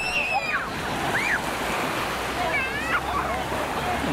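Sea waves on a hotel beach in Alanya, Turkey, a continuous wash of surf with wind noise on the microphone, while people talk and call out in the background.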